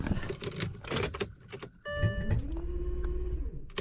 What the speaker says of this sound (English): Watch when I start the car.